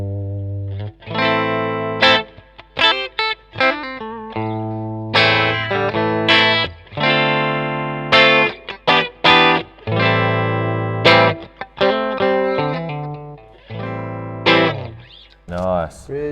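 Fender Vintera electric guitar on its bridge pickup, bright sustained chords and riffs with effects and some distortion, played in loud bursts separated by short gaps, close and alone.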